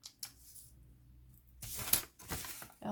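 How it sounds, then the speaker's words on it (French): Paper torn along a ruler's edge in a short ripping burst after a quiet pause, close and fairly crisp, with a second tearing rustle following. "Et vous allez tirer votre papier."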